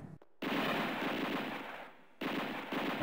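Enemy machine guns rattle in The Super Spy video game, firing in two loud, dense automatic bursts split by a short pause, with no voices over them.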